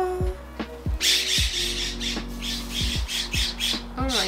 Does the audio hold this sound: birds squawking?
yes